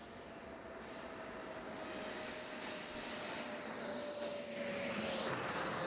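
A large RC turbine jet airplane comes in to land outdoors, its steady high-pitched turbine whine heard at a distance and rising slightly as it approaches, with a soft rushing roar beneath and no voices.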